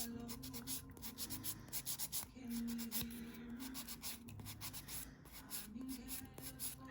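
A 180-grit nail file rubs back and forth against a gel fingernail during an infill, in quick, repeated scratchy strokes, close and distinct, with faint music playing in the background.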